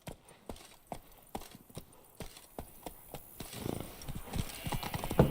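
Hooves of the horse Roach clip-clopping at a steady trot in The Witcher 3: Blood and Wine, a regular rhythm of distinct hoofbeats that grows busier and slightly louder toward the end.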